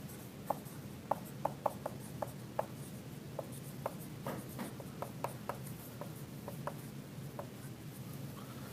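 A pen writes on paper in short, quiet scratching strokes, a loose irregular series of light taps and scrapes against a faint background hum, with no talking.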